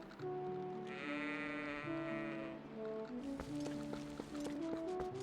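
Goats in the video game Zelda Twilight Princess bleat repeatedly over a looping melodic game soundtrack, their wavering cries clear and close.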